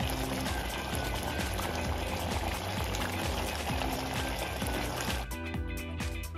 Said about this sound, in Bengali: এই দেখুন, পুরো জলটা আমি দিয়ে দিয়েছি